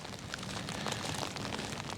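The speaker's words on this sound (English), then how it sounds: "It's raining right now, and we're getting ready for snow and sleet in a couple of hours." Steady rain falls on a stormy morning ahead of expected snow and sleet, a dense, even patter with a constant hiss and no voices.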